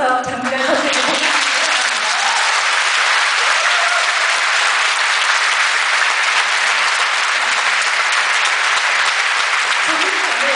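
Weightlifter Jang Mi-ran is honored onstage with loud, steady audience applause that swells in after a brief spoken moment and carries on unbroken.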